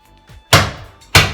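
Two sharp, heavy bangs ring out half a second apart as a wooden staircase is dismantled in a house, each a loud thud with a brief decay, preceded by faint knocking.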